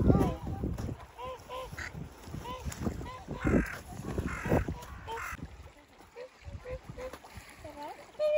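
Wild ducks in winter in Aomori, Japan, give repeated nasal calls scattered through the scene, mixed with crow-like caws and water splashes while people talk nearby.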